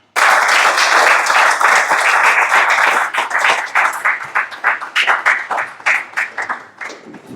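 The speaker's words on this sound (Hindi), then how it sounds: "एक बार पुनः तालियां हो जाएं आपकी" Audience applause at a Hindi-language civic awareness forum on the constitution, a dense loud round of clapping that holds steady for three seconds, then breaks into separate claps and thins out toward the end.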